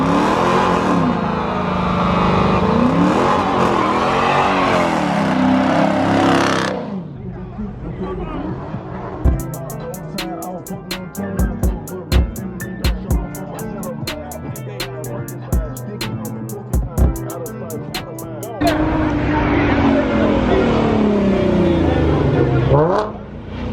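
A Chevrolet Corvette C8 at an outdoor car show revs loudly up close, its engine roaring in several strong bursts with quieter idle gaps between, while a crowd chatters in the background.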